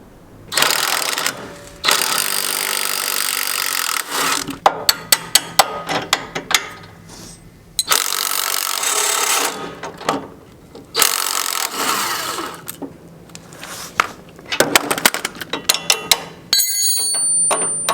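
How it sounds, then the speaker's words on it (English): An impact wrench removes bolts from the deck of a Toro Grandstand Multiforce mower, sounding in loud, close whirring bursts broken by rattling, ratcheting clicks and short quiet gaps. "we're going to go ahead and remove our first 2 bolts"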